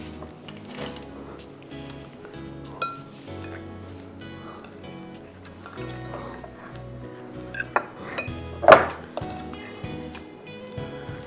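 Chicken marinade gets mixed in a bowl, with soft clinks and taps of a utensil against the dish and faint wet squishing, quiet and intermittent throughout.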